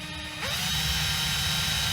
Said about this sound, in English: So I am gonna drill a tiny little hole right here.